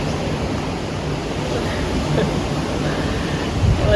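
Steady ocean surf at Myrtle Beach washes in a continuous broadband rush, mixed with wind buffeting the microphone, with no distinct individual wave crashes standing out.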